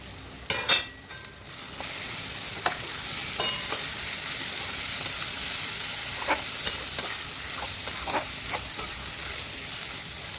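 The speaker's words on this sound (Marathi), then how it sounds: "मस्त चांगलं फ्राय करून घेते चला आता टाकते पनीर" Paneer sizzles steadily in an onion-tomato masala puree in a pan, with a constant close frying hiss and occasional scrapes and clinks of stirring.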